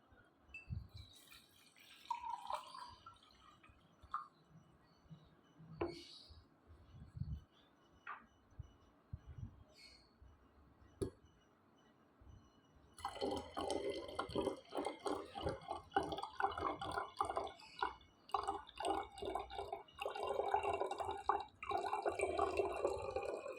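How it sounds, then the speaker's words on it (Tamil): Water poured from a glass into a container for an apple cider vinegar culture, quiet drips and small splashes at first, then a fuller, continuous pouring trickle in the second half. "இந்த மாதிரி தண்ணி ஊற்றிட்டிங்கன்னா வேலை முடிஞ்சு."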